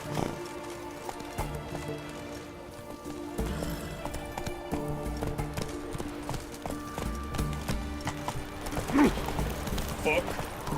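Roach, the horse in The Witcher 3, gallops with rapid rhythmic hoofbeats under game music, with a brief whinny near the end and someone talking intermittently over it.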